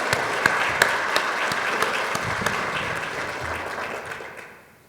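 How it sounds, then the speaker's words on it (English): An audience at an HR summit and client workshop applauds the event sponsors with steady, dense clapping that fills the room before tapering off at the end. "Let's just give a round of applause for all the sponsors for today."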